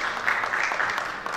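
Delegates at a ministerial forum of archipelagic and island states applaud three Indonesian startups, producing a brief, moderate patter of clapping from a mid-sized audience.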